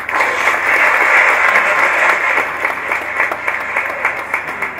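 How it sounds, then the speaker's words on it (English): Sustained audience applause at an NSE 2019 X-Kathon event, a dense even wash of many hands clapping that holds steady and loud for nearly five seconds, fading slightly toward the end. "Round of applause for that."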